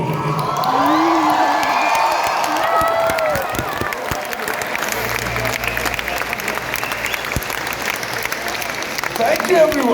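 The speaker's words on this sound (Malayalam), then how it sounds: "എഴുന്നേറ്റ് നിന്ന് എനിക്കൊരു കയ്യടി കൊടുക്കാൻ പറ്റും" A standing audience at the Onamamangam event in Sharjah gives sustained applause for Prithviraj, a broad wash of crowd clapping and cheers with voices calling out early, continuing strongly throughout.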